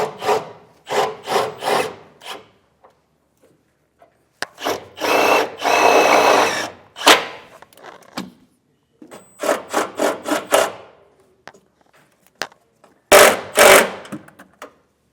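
A power drill drives self-tapping screws into a steel truck frame rail while an Air Lift load controller compressor is mounted, heard as loud, close stop-start bursts of grinding whir separated by short pauses.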